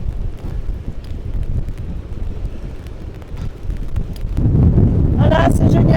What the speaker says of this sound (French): je sais pas si vous m'entendrez, hein, avec le vent